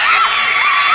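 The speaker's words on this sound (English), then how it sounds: "He knows that the crowd is shouting at him for him." Crowd at a school cross country finish shouting and cheering, a loud, close mass of high voices sustained without a break.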